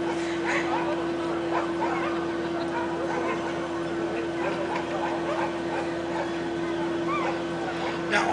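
An épagneul picard hunting dog at a field demonstration in Carrouges gives occasional barks, yips and whimpers amid a steady motor drone and outdoor noise, with some voices faintly present.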